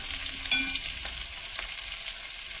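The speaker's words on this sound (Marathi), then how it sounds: "मंद आचेवर या आपल्या मिरच्या छान अशा मऊ शिजू द्यायच्या" Stuffed green chillies cooking covered in a pan on a low flame, giving a soft, steady frying hiss up close with a couple of faint clicks and no talking.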